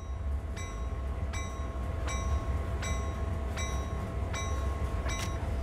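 Locomotive in the Train Sim World 2 game rolling along steadily: a constant low rumble of engine and track, with a faint, regular clicking beat every second or so, and no voices.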